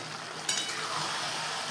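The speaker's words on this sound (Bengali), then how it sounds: "এই পর্যায়ে মাছ আর বেগুনটা দিয়ে দেবো।" Fish and eggplant frying in a cooked-down spice paste, a steady sizzle with a short burst of stirring near the start. The sound is close and even, with no voices.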